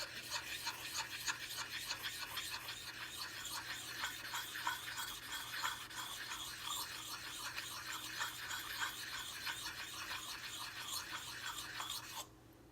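An axe is stroked against the fine side of an Arctic Fox axe puck in steady, repeated rasping scrapes. The grinding is close and even, and it stops abruptly at the end.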